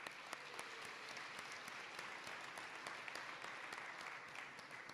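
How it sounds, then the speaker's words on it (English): Steady audience applause fills a graduation ceremony at Ginn Academy, a dense wash of many hands clapping evenly throughout, fairly faint and distant with no break. "That's a round of applause."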